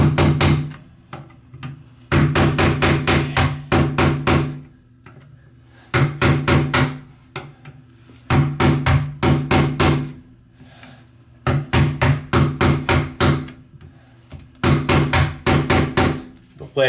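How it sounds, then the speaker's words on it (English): Rapid bursts of hammer blows against lead pipe around a brass toilet flange, loud and close, coming in several quick clusters of strikes separated by short pauses. "as I hammer around here"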